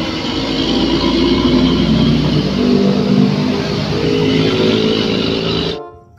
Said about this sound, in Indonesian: Truk tangki Pertamina.